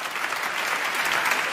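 Audience applause at a Ramadan Quran recitation gathering, steady and dense clapping from a full room throughout, no voices over it.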